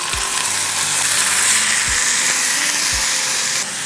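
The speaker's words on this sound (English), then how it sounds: "Cook the rice very well in the masala." Rice cooking in a masala for mixed sprouts rice, giving a steady, loud sizzling hiss that runs continuously, with a few low soft thumps of stirring and no voices.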